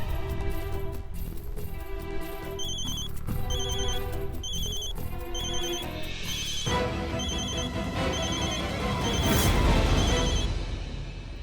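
A telephone rings after a number is dialed at a roadside paan stall, with repeated ringing pulses over several seconds set against busy background noise.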